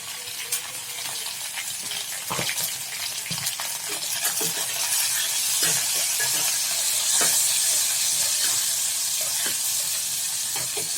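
Turmeric powder goes into a sizzling pan of oil with ginger-cumin paste for a potato and papad curry, producing a steady hiss and sizzle broken by sharp stirring and spatula clicks over about eleven seconds.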